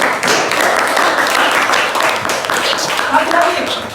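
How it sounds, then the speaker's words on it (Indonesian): Classroom applause for a student named Joseph, a dense, steady wash of many hands clapping that fills the whole stretch, fairly loud and close, with some voices mixed in. "Berikan aplaus buat Joseph."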